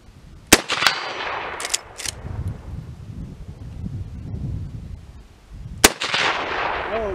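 Two sharp, loud gunshots from a vintage Winchester .25-35 lever rifle fire at an outdoor target about five seconds apart, with wind and rustling filling the space between them.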